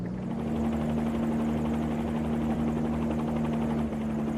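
Freeware Bell 47 helicopter in the X-Plane flight simulator, its engine and rotor giving a steady, loud, close drone with a constant low hum throughout, no speech.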